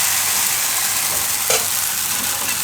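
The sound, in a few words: batter sizzling in hot pan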